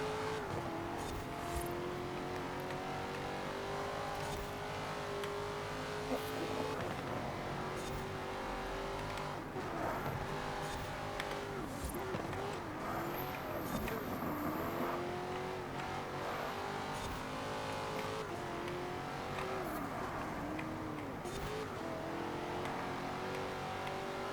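An A800-class car in Forza Horizon 4 drives a custom track, its engine revving and shifting continuously with rising and falling pitch sweeps, brief tire squeal, steady and moderately loud throughout.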